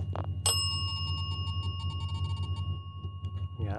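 A small bell, apparently on a toy or doll, rings with a sharp strike and a long sustained ringing tone that fades slowly over a steady low hum, with a brief shake at the start and another soft rattle near the end.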